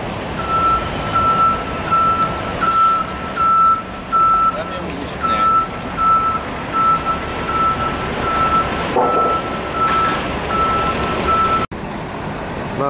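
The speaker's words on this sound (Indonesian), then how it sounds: "Nah, ini banyak bis sedang lewat juga" Heavy traffic on a busy city street during weekend rush hour, with buses and trucks rumbling past and a steady, repeating reversing beep cutting through the din for most of the stretch, loud and close.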